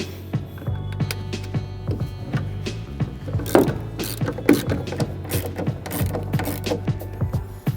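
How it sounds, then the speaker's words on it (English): A ratchet clicks close up in steady, rapid bursts as two 8mm bolts are driven back in on a 2015-2017 Ford F-150 tail light. The metallic clicks come alone, with no speech. "Reinstall your 2 8mm bolts."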